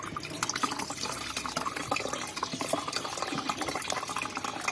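Water pours steadily into a container to dilute fish waste fertilizer for plants, a continuous close splashing and trickling with no talk.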